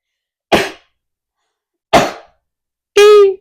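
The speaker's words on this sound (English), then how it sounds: "I'm about to sneeze." Three separate sneeze-like bursts from one person, spaced about a second apart, the last one louder and more voiced than the first two, with nothing else heard between them.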